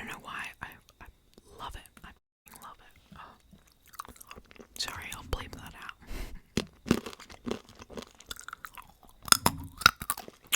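Wasabi peas crunch and crackle close to the mic in an ASMR eating session, with irregular bites and chewing interspersed with soft whispering.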